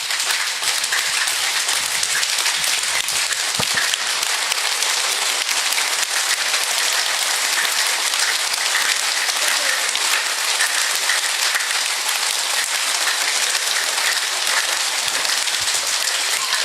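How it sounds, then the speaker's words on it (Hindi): A group claps hard with both hands during devotional bhajan singing. The sound is a dense, loud, continuous roar of claps that holds steady for the whole stretch, with no audible pauses. "हाथ टाइट करके पूरी शक्ति से दोनों हाथों से जितना हो सके ताली बजा करके भजन करिए"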